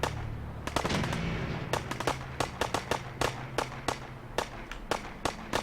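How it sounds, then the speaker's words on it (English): Crisp gunfire echoes from a distance in Fallout 4, with a short burst followed by a long string of sharp, evenly spaced single shots and no talking. "I like that gunfire. It's kind of like a nice, crisp sound."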